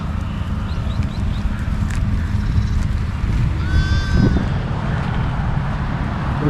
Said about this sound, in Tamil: ஒரு குட்டி ஆட்டை போய் பிடிப்போம்.